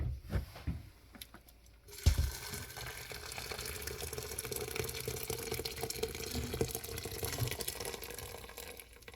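Boiling water poured into an Instant Pot for cooking red lentils, a steady close splashing, gurgling stream that starts after a couple of seconds of clatter and runs on to the end.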